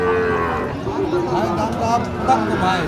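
Red cattle low at a cattle market in Dinajpur, a long droning moo close by, with market chatter faintly underneath.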